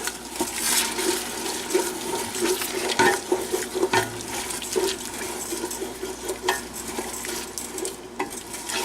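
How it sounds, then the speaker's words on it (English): Dark gumbo being stirred in a pan on the stove, the spoon scraping the bottom with steady scrapes and knocks over a constant low sizzle and bubbling. "And then we just stir. Scrape everything off the bottom of the pan."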